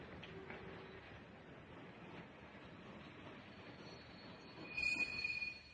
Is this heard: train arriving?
yes